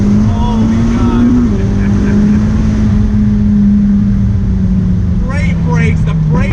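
A 2019 McLaren 600LT's engine drones loudly and close from the cabin, its note holding and shifting in pitch as the car accelerates, with a voice briefly audible near the end.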